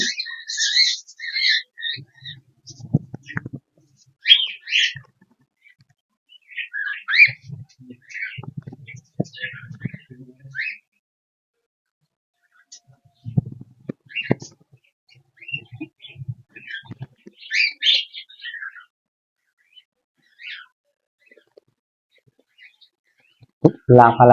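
Cockatiels give short bursts of shrill chirps with quiet gaps between, alongside soft low thumps and rustling nearby.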